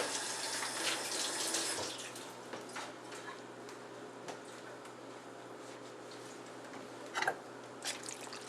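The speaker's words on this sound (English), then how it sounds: "I'll wash my hands right quick." A kitchen tap runs steadily while hands are washed during homemade macaroni and cheese preparation, a moderate, continuous rush of water with a few brief splashes near the end.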